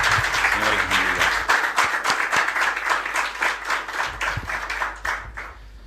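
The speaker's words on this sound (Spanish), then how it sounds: "Le damos un aplauso al Señor por la vida de ellos que están con nosotros" Church congregation applauding in welcome of first-time visitors, a dense, steady wash of many hands clapping that carries through the whole stretch, with a brief spoken voice near the start.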